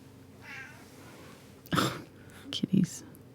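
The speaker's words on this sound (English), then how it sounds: "got the weirdest meow of every cat" A cat with an unusually odd meow gives a few short vocal calls, close and fairly loud, following a quieter stretch with faint background murmur indoors.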